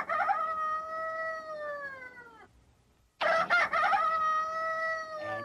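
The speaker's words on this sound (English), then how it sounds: "the little rooster, who got up early to do his best to wake up the farm" Rooster crowing a long cock-a-doodle-doo on a farm, one loud drawn-out crow, a short pause, then a second crow starting with clucking bursts, close and clear with no talk.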